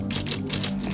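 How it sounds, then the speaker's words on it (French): Typewriter keys struck in a quick, steady run of clacks, close and fairly loud, with a low hum beneath and no voices. "j'ai toujours privilégié le papier et la machine à écrire."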